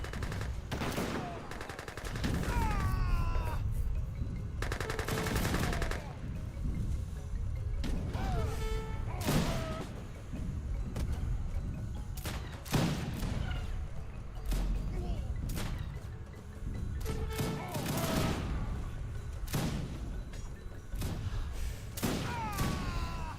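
Artillery and massed gunfire in an Age of Empires 3 Wars of Liberty match crackle as dense overlapping volleys, sharp shots and booming impacts, sustained throughout at a steady loud level, with voices talking at times.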